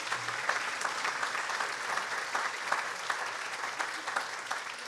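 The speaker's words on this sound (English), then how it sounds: "Please, a round of applause." Round of applause from a crowd at a volunteer event, a continuous wash of many hands clapping, fairly distant and soft, steady throughout with no voices standing out.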